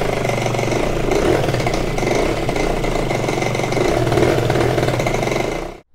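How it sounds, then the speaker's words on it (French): An MBK Booster scooter's small two-stroke engine runs loud and close, idling unevenly with a rough, sputtering burble from a carburettor badly out of tune, then cuts off at the end. "le booster démarre super bien. Par contre, on sent qu'il y a un vrai réglage carbu à faire. Il tourne pas bien du tout"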